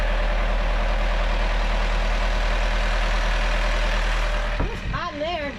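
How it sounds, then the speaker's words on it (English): A boat's engine drones steadily and loudly at sea in the tropics, dropping off near the end as a voice briefly speaks over it. "That's a happy engine."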